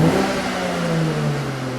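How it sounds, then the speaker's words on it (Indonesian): A 2020 BMW 840i Gran Coupe M-Technic in Sport Plus mode, its exhaust heard close as the revs fall away from a brief blip into a steady, loud engine note. "Ini dari suara knalpot mobil ini,"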